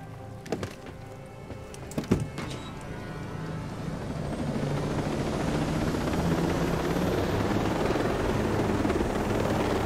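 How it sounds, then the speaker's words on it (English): A video game helicopter's rotor thrum builds into a loud, steady whir after a couple of sharp knocks, filling the scene without any talking. "And my helicopter."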